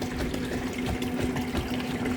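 Water pouring from a gallon jug into a homemade egg incubator tank, a steady continuous splashing stream with no break, close and moderately loud, accompanied by a constant low mechanical hum.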